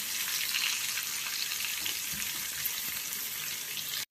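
Pieces of raw mango sauté in hot oil for a mango pachadi, giving a steady, fairly soft hiss and crackle that runs unbroken for about four seconds and then cuts off abruptly.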